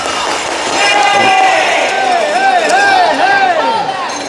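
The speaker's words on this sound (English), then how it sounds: "As you hear the displeasure of the crowd" A hockey arena crowd roars loudly in displeasure, a sustained mass of voices that swells and holds. Whistle-like tones rise and fall above it, and a commentator talks over the noise.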